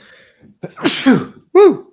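A single sharp sneeze bursts out close by, followed by a short voiced exclamation.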